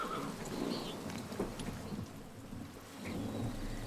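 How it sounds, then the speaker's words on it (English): Steady rain patters in the medieval game Pentiment while low thunder rumbles underneath, a soft, even downpour with a distant roll throughout, no voices. "Look at this rain."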